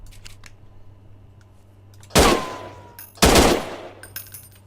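Two loud, close bursts of gunfire in the video game Martial Law, each about a second long and separated by a short pause, over a quiet background hum, with faint clicks after.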